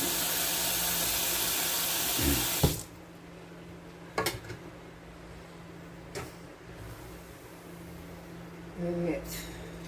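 Tap water runs into a kitchen sink while hands are washed after handling chicken, then stops, leaving a few separate drips and small splashes spaced out over the quiet that follows.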